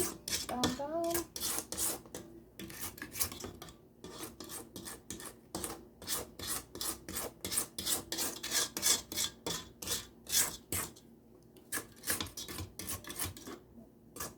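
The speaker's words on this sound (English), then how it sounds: "Just use a scraper and scrape everything down." A scraper scrapes sorrel fruit cake batter down the sides of a mixing bowl in quick, repeated rasping strokes, close and fairly quiet, with brief pauses between bursts.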